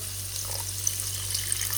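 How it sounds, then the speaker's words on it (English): Water poured or running from a tap into a pan of tomatoes cooking down with salt for chicken jalfrezi, a steady, even hiss-like flow over a low kitchen hum, no talk. "add little water"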